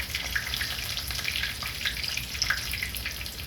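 Breaded chicken pieces, about twenty of them, fry in hot oil with a steady, dense crackling sizzle and frequent small pops, close and continuous with no talking.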